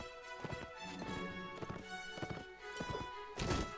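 A horse gallops in the video game Warsword Conquest, with rapid rhythmic hoofbeats, close and fairly loud, mixed with game battle sounds and no speech.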